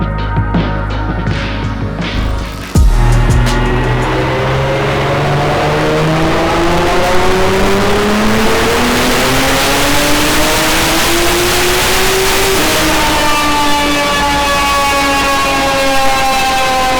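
A Nissan R35 GTR on a Mustang dyno: a loud engine idles, then, after a sharp jump in level, it revs up and holds a long, rising, roaring pull through the gears, close and sustained.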